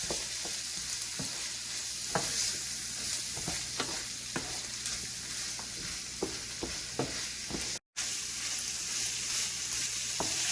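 Ground beef, green beans and soy sauce are stirred in a hot pan, a soft continuous sizzle broken by regular scraping strokes of the utensil, close and moderate in level, with one brief dropout.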